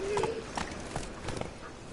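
Roach, a horse in The Witcher video game, clip-clops along at a steady pace in short repeated hoof beats, with faint game ambience and a brief whinny-like tone near the start.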